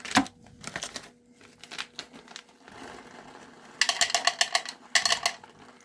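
Scissors snip the corner off a sealed foil bag of Equinox hops, producing close, crisp crinkling and rustling in short bursts, with quieter handling noise between them and no talking.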